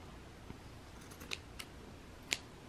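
Scissors cutting off excess material in a home decor craft, a few quiet crisp snips against a faint background hiss.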